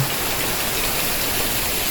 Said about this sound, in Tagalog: Pero ito na yung pinakamalakas na ulan sa amin